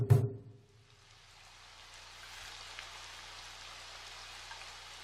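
Rain sound effect for a picture book reading about ghosts and yokai: after a brief thump at the start, steady soft rainfall hisses evenly for about four seconds, fairly quiet and with no voice over it.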